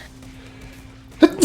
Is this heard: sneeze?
yes